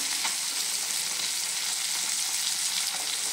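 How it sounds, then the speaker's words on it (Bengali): Fish fry in a hot pan with an even, crackling sizzle that runs steadily at moderate volume, no voices over it. "প্রথমে একটু মাছগুলোকে ভেজে নেওয়া হচ্ছে।"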